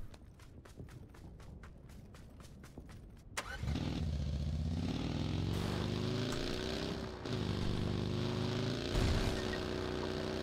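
A vehicle engine in PUBG revs up after a brief run of footsteps and keeps driving steadily, rising and falling in pitch as it shifts, loud and close throughout.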